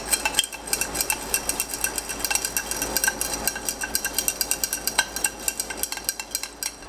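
A stir stick swirls creamer through iced coffee, its ice clinking against the cup in a quick, steady run of light taps close by, with no voices.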